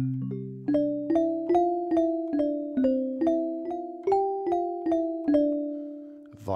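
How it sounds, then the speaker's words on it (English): Music box tones from a sound font sampler synthesizer on iOS pick out a simple melody of about a dozen plucked, chiming notes at a steady pace, each briefly ringing, clear and alone. "A music box."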